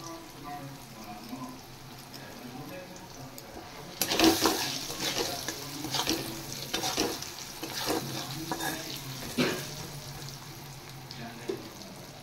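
Mango pieces lightly frying in a pan, a quiet low sizzle that jumps to louder sizzling and stirring scrapes partway through, then continues unevenly with soft clatter, with speech at times.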